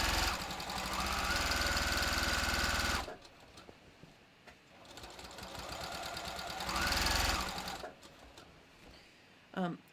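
A home sewing machine stitches bathrobe fabric with pins in place and feed dogs pulling it through. Two loud, close bursts of fast whirring run about three seconds each, with a quieter pause between them.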